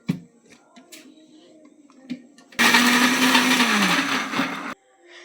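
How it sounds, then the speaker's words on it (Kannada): A mixer grinder whirs loudly for about two seconds while blending green chilli chutney, starting abruptly after quiet kitchen clatter and cutting off sharply. "ಈಗ ಮಿಕ್ಸಿ ಜಾರಿಗೆ ಹಾಕ್ತೀನಿ."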